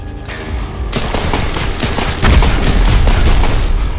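Shotgun fire in the virtual reality video game Espire 1 rings out as loud, dense, overlapping blasts, a relentless barrage of gunfire that continues without pause.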